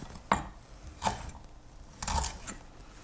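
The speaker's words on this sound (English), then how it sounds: "This is fresh ginger. I'm gonna rough chop it" Fresh ginger rough chopped with a knife on a board, a few soft, spaced thuds at an uneven pace, quiet and close with no talk.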